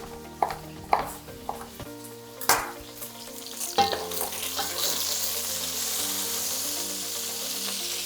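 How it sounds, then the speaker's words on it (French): Pieces of poultry and vegetables fry in a pan, opening with a few sharp clanks of stirring before a loud, continuous sizzle settles in and carries on alone. "Les autres volailles commencent à être colorées uniformément. Et mes légumes qui sont ici commencent à chauffer."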